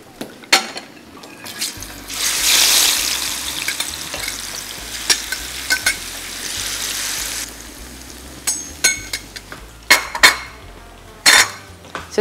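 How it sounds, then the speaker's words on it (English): Plantains frying in hot oil give a steady sizzle and crackle, swelling loud at the start and easing later, broken by sharp clinks and scrapes of a utensil against the pan. "So right next I'm going to fry my plantains."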